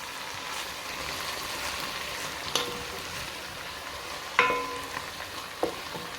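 Tomatoes being stirred into a pot of bean sauce on the stove, a steady low sizzle of frying underneath with a few sharp clinks of the spoon against the pot.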